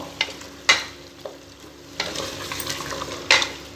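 Chicken sizzles and fries in a pan while a utensil stirs, with a few sharp scraping clatters standing out over the steady hiss.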